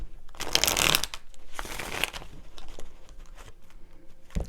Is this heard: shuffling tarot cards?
yes